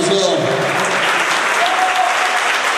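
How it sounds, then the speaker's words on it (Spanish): An audience at a string orchestra concert claps loudly and continuously, a close, dense wash of applause with faint voices and cheers underneath. "fuerte ese aplauso."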